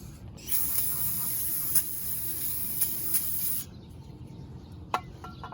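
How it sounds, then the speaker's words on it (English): A steady hiss of aerosol spray onto brake caliper parts of a 2017 Toyota Highlander during a pad and rotor job, one continuous burst of about three seconds, close and fairly loud, followed by faint clicks. "And after that I'll spray a little bit"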